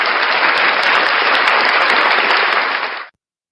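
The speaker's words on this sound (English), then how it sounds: "round of applause" A live-show audience gives Blackheart Night a round of applause: dense, loud, sustained clapping that holds steady for about three seconds, then stops abruptly into silence.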